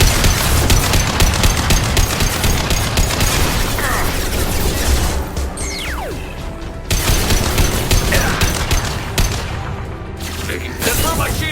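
A hacked turret fires in the Mass Effect 2 game: dense, rapid automatic shots and booms roar continuously at close range for most of the span, broken by brief lulls, while voices speak over the combat.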